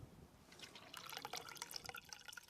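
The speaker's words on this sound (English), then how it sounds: "we've added a splash of white spirit, and Bal is going to pour that into the tank" Vegetable oil and white spirit being poured into a car's fuel tank, a faint continuous liquid trickle with gurgling and dripping that grows slightly busier partway through.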